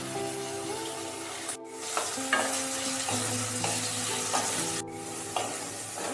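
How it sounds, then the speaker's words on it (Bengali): Potatoes fry in hot oil in a pan for a rui fish head and bottle gourd ghonto, with a steady sizzle under repeated scraping stirs and a few clear knocks of the utensil against the pan. "আলু তেলের মধ্যে একটু নাড়াচাড়া করে নিয়ে যখন একটু ভাজা ভাজা হয়ে যাবে"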